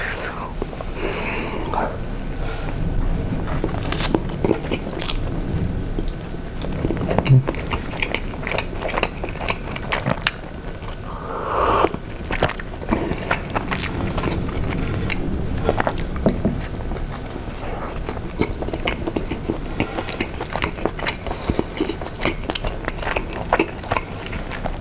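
Mini pizza is bitten and chewed close to the microphone during an eating show, with soft repeated crunches and moist chewing sounds continuing throughout, and occasional quiet whispering in between.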